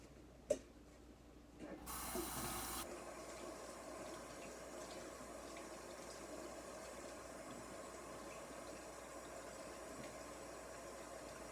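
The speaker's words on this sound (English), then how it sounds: "I do need to wash my hands right quick" Running tap water pours steadily from a faucet while hands are washed in a home kitchen, a continuous close hiss after a brief click at the start.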